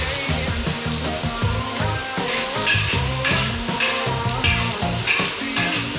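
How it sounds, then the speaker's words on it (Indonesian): Ingredients being stir-fried in a pan for purple nasi goreng: loud, continuous close-up sizzling and crackling, with stirring and background music underneath. "Habis itu, tumis-tumis si bahan-bahannya."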